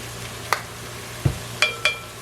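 Chopped garlic and ginger sizzle in a pan under a faint, steady frying hiss, while a utensil stirring them gives four distinct clacks and scrapes against the pan.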